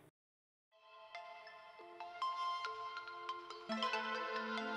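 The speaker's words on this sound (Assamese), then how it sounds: "অ' ৰচোন ৰ বেদাংগদাই ফোন কৰিছে" A phone rings with an incoming call, playing a melodic electronic ringtone that starts after a brief silence and builds in layered tones, growing fuller and louder over a few seconds, with no talking.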